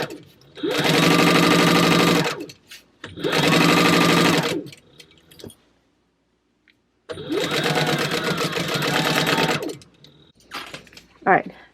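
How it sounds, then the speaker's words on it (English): A sewing machine stitches a bag seam in three loud, steady runs of rapid whirring with short pauses between, plus a few faint handling clicks near the end. "Now I'm going to switch my stitch length back to a 3. And I'm just going to sew."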